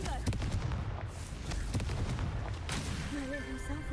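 In the Hogwarts Legacy video game, a cast Confringo spell produces several sharp blast-like bursts with rumbling impacts over a busy game soundscape, followed by brief tonal chimes near the end.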